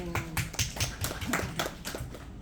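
A small group claps briefly in an indoor meeting, a quick run of about a dozen sharp, fairly close handclaps in an uneven rhythm, with no talk over them.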